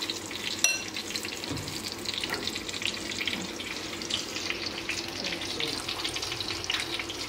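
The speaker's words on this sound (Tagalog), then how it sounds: "Morgan is mixing it" A child stirs a mixture, close steady swishing and scraping with a watery churn and one sharp clink near the start, no talking.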